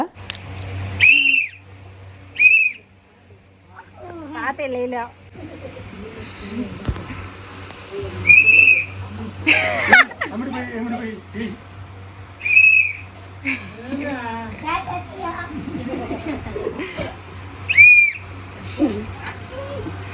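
Shrill festival whistles blown during a Ganesh celebration, short sharp blasts repeating every few seconds among people talking and ambient crowd noise.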